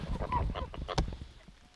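Several geese honk close by in a short, overlapping burst of harsh calls that fades quickly.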